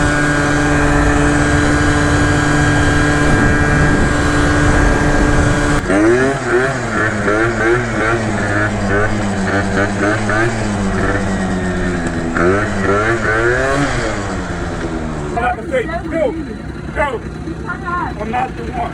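A Yamaha Zuma 70cc BWS scooter engine runs loud and close, buzzing and rising and falling in pitch as it revs, with a brief steady idle before the throttle blips; voices talk over it.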